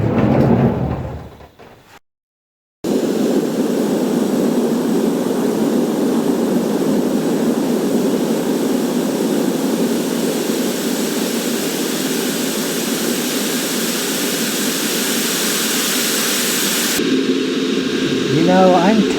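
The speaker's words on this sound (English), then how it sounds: "Is the chopper ready? She's preparing for takeoff now." Helicopter in a video game spinning up for takeoff, a steady loud engine and rotor roar that sets in after a brief pause and holds evenly throughout.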